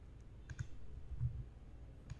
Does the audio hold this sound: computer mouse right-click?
yes